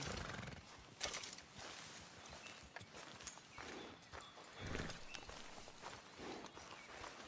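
Horse hooves clip-clop steadily at close range in the video game Red Dead Redemption 2, with snorts and a whinny breaking through; no talking.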